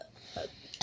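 A burp during a lighthearted burping challenge between friends, a short throaty belch near the end followed by a brief loud burst, close and alone with no talking.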